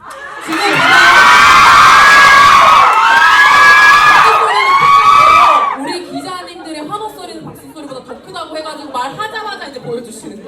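Fans scream and cheer loudly at a Bangkok press conference for Kim Soo Hyun's 2024 Asia Tour, a shrill sustained roar that cuts off abruptly, followed by scattered chatter and laughter.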